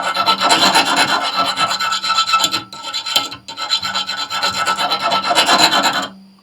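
Steel file scraping across a hardened knife blade during a hardness test: a loud, close, continuous rasping of repeated strokes with two brief pauses, gritty and biting, ending abruptly.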